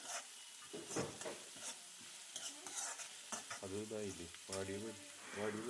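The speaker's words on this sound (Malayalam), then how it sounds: "മുളക് ഇനി ചെറിയ മുരിച്ചിൽ ആകുന്നതുവരെ നമുക്ക് ഇളക്കി കൊടുക്കാം" Chili frying in a pan is stirred until lightly crisp, with a soft hiss of sizzling and a few clinks of the spoon. A voice is briefly heard over it toward the end.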